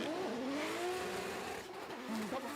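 A Toyota GR86 fitted with a 2JZ engine drifting in a D1GP round at Ebisu, its engine wailing and bouncing at high revs with a smeared tyre-noise hiss, heard from a distance in a continuous roar.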